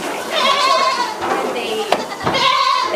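Goats bleating at a meat goat ranch, several drawn-out wavering calls close by, one at the start and another near the end, with people talking quietly between them.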